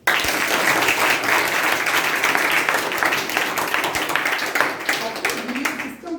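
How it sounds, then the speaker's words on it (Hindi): A large audience at a motivational talk bursts into loud, sustained applause, dense clapping that holds steady for several seconds before easing slightly at the close. "इसके लिए जोरदार ताली।"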